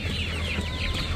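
Chickens clucking in their coop at a Jaffna home, dense overlapping clucks and squawks, loud and close and continuing steadily throughout without any talk.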